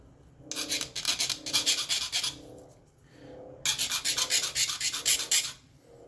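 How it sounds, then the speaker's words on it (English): A file rasps back and forth against a brass pin on a sculpture, two close bursts of quick rhythmic strokes separated by a short pause, with no voices. "I need to file this pin down a little bit more."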